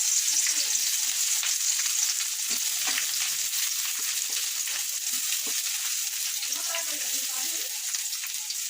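Chopped onions frying in a pan with cardamom and being stirred, giving a steady hiss of oil under scattered soft stirring clicks and faint background voices.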